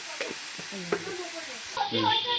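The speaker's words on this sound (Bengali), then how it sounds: "আলুটা আমার ভাজা হয়ে যায় কেমন" Potatoes with turmeric and salt frying in hot oil, a close, steady sizzle broken by a few stirring scrapes, growing louder and denser near the end, with no talk over it.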